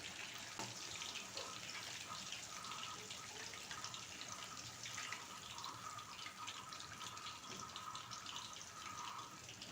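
Whole ripe nendran bananas with their peels on frying in a pan of hot oil, giving a steady, continuous sizzle and crackle throughout, fairly close with no talking.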